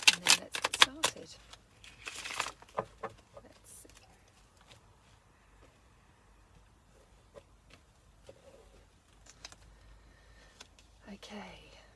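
Quick papery riffles of tarot cards being shuffled come at the start, then fade to faint rustles and soft handling in a quiet room.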